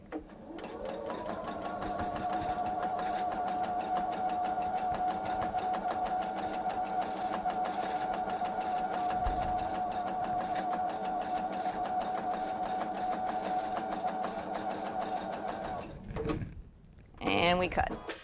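A sewing machine fitted with a 1/4 inch piecing foot stitches fabric for a table runner. It runs in one long, steady whirring stretch, then stops with brief handling noise at the end.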